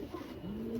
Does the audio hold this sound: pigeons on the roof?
yes